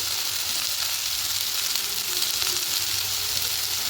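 Samosa filling fries in a pan with a steady, dense sizzle that holds evenly close up throughout, with no voices over it.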